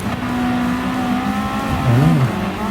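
The engine of an orange Mitsubishi Lancer Evolution race car in the video game Gran Turismo 7 holds a steady, close, loud drone, then briefly rises and falls in pitch as it revs near the end.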